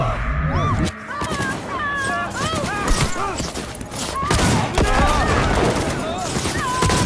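Heavy shotgun blasts and gunfire from a firefight in Cyberpunk 2077, loud bursts against a busy backdrop of music and effects, with someone talking over the action.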